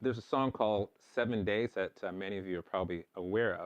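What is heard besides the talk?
No distinct noise like a dog, phone or traffic.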